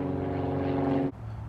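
A steady droning propeller plane hums in the background, then the sound cuts off abruptly near the end.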